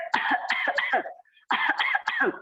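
A person coughs forcefully during a yoga throat-stretch exercise: two bursts of several harsh, close coughs each, separated by a brief silent pause, with no talking.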